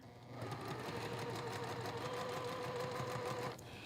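A sewing machine stitches through quilt block fabric with a steady, close, continuous whirring hum that runs for about three seconds before stopping.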